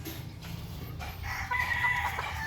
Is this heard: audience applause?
no